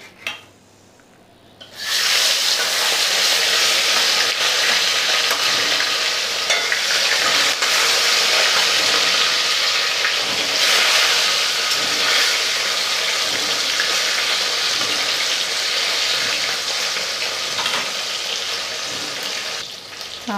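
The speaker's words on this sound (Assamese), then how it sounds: "তেলখিনি গৰম হৈছে এতিয়া মাছখিনি দিছোঁ" Labeo bata fish, rubbed with salt and turmeric, hits hot oil with a sudden loud, continuous sizzle that holds steady and close throughout.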